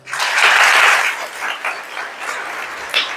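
A burst of applause from an audience at an essay-writing competition event, loud at first and then thinning out into scattered claps.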